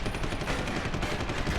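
Dense, continuous burst of gunfire from the video game Deus Ex, rapid overlapping shots filling the short stretch at steady loudness.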